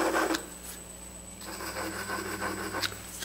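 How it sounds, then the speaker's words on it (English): Piece of laminate scraping gunk out of grooves in a turned wooden piece, giving a dry rasping scrape over a steady lathe-like hum, close and continuous with no talk. "Now I'm going to take a piece of laminate and clean out these grooves."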